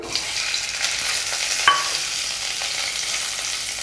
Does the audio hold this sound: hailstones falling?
no